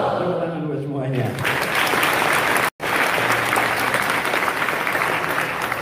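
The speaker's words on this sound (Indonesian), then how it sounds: "Tepuk tangan buat semuanya." Audience at an SMA Lab School Jakarta gathering breaks into sustained applause after brief speech, with a short dropout mid-clip; steady broadband clapping from a crowd fills the room.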